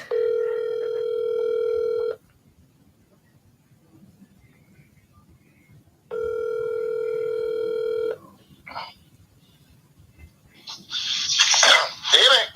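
A phone call to a dad gives two long electronic ring-back tones separated by silence, followed by brief noises.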